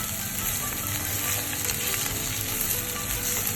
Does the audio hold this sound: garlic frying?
yes